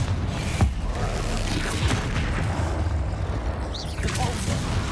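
A Confringo blasting spell explodes in the Hogwarts Legacy video game: a dense, roaring burst of game noise with a sharp crack, layered among other battle sounds and what seems to be a voice, loud and sustained throughout.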